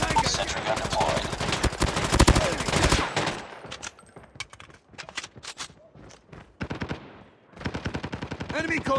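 Automatic sentry gun in a Call of Duty capture-the-flag match fires rapid, loud bursts of game gunfire, densest in the first three seconds, then scattered shorter volleys with brief gaps, mixed with game sound effects.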